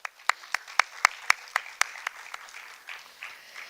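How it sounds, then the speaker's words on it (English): An audience at a TEDx talk applauds a speaker with a short run of sharp, distinct claps that start crisp and near, then thin into softer, scattered clapping. "A big round of applause for Mr. Raghav."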